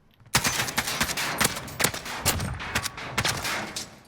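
Rapid automatic AK-47 bursts from the Modern Warfare video game, loud and close, with sharp repeated shots in clustered volleys over about four seconds.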